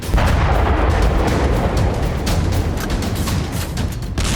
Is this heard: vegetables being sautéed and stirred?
no